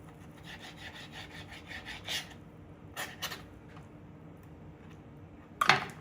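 A knife cuts across the grain of beef being prepared for a Kedah-style korma, making soft scraping and rubbing strokes, a few faint, with a louder stroke near the end.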